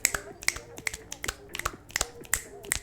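A person snaps fingers and slaps a hand onto an open palm in a quick repeating rhythm imitating a horse's gallop, crisp sharp clicks heard close and alone.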